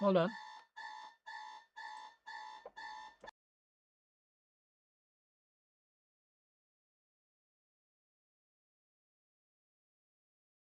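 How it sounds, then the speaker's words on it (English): An alarm clock goes off in a run of five short repeated electronic beep bursts, fairly close and clear, right after a brief spoken interjection, then stops abruptly into silence. "Sorry, that was my alarm clock."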